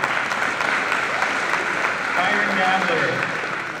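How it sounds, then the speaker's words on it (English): Audience applause at a graduation ceremony, a steady wash of clapping from a crowd that runs the full length at even loudness, with faint voices mixed in underneath. "let's give her a round of applause"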